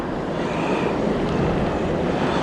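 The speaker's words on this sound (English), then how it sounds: "I think the winds is like the same as last time, 11 miles per hour." Strong wind blowing at a rough beach during surf fishing, a loud, constant roar of wind buffeting the microphone and crashing surf filling the whole stretch, with no voices.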